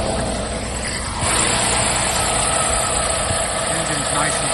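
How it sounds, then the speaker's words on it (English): The engine of a 2017 Neoplan Tourliner P20 Select Plus 55-seat executive coach idles nearby with a steady, even rumble that swells slightly after the first second and holds there. "The engine's nice and sweet."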